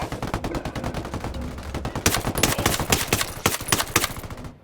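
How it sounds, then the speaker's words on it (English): Exchange of gunfire between rebels and cartel gunmen in Ghost Recon Wildlands: a steady clatter of rapid shots through the first half, then louder, denser bursts and single cracks toward the end, with no talk. "Got some rebels trading shots with the cartel."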